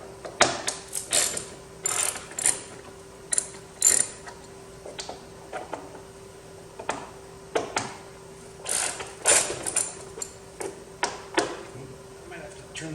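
Hand ratchet clicking in short bursts while undoing Torx bolts on an abandoned 1985 Corvette, rapid close ticking repeated in spurts with pauses between.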